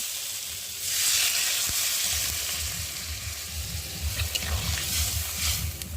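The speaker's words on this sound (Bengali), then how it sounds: "এখন আমি জল দিয়ে দেবো" Water hits hot fried masala for a fish curry with taro and potato, bursting into a loud broadband sizzle around the one-second mark that steadies into a continuous hiss with stirring scrapes, no voices.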